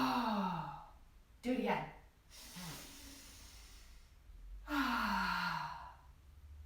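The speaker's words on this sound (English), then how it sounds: "Let's take 3 big deep breaths and smell the pizza." Deep breaths in and out during a kids' yoga exercise, with long audible inhales and sighing exhales repeated several times and close. A voice speaks briefly between the breaths.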